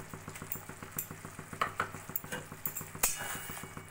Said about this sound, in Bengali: সবকিছু ভালো করে মিশিয়ে নিয়ে আমি এবার গ্যাসটা বন্ধ করে দেব।